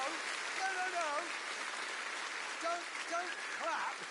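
Crowd applause in The Grand Tour video game, a steady hiss of clapping under a talking voice throughout.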